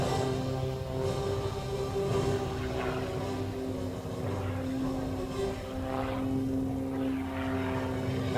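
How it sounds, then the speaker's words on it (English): An MX aerobatic propeller plane flies a torque roll at the 2012 Tuscaloosa Regional Air Show, its engine droning steadily with a strong tonal hum and shifting propeller pitch throughout. "Rob pulls back on the stick of the MX, quickly climbs back into another torque roll."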